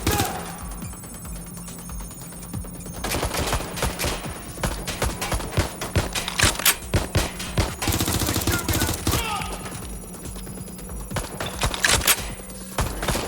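Rapid automatic gunfire in Watch Dogs Legion crackles in repeated bursts, loud and close, with shouted voices and a high alarm-like ringing running through the firefight.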